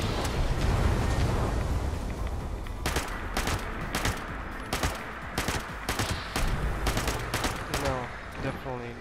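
Gunfire in the video game Fallout 76, a loud rumbling burst followed by a run of sharp, evenly spaced automatic shots that trail off into scattered single cracks, with a voice talking underneath.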